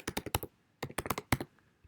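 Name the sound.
typing a link on a computer keyboard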